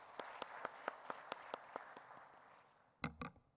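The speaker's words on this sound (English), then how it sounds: "Let's give her a round of applause." Sparse, distinct claps from a small audience at a conference applauding a speaker, fading out after a couple of seconds, followed by a couple of louder nearby knocks or thumps.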